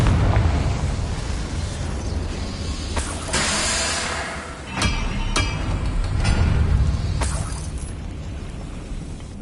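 Explosions from the Confringo spell in a Hogwarts video game, several loud bursts and booms spread across the span over a rumbling, crackling background.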